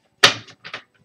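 A quick riffle of tarot cards, one dense burst followed by a few lighter flicks and taps, close and crisp, with no voices.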